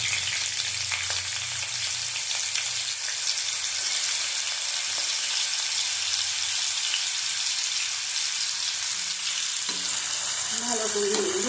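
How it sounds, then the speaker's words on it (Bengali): Potato sizzles in hot oil with cumin seeds, a loud, continuous close-up frying hiss with occasional stirring scrapes and a brief clatter near the end. "ভালো করে ভেজে দেবো।"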